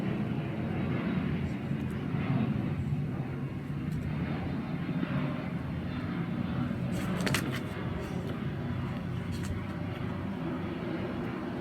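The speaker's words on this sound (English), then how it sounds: "There's an aeroplane now." An aeroplane flies overhead in Fuerteventura, heard as a steady broad rumble that holds at an even, moderate level for about twelve seconds.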